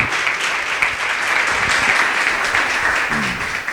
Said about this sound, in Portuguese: Louve a Deus com as suas palmas,